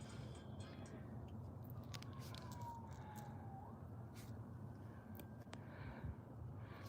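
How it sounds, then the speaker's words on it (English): An emergency vehicle siren wails faintly in the distance outdoors, a thin rising and falling tone over a steady low rumble of background noise. "Yeah, and I heard sirens."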